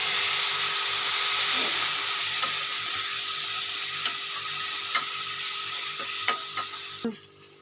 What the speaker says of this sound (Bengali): ভাজা হয়ে গেলে এতে টমেটোগুলো দিয়ে দেবো।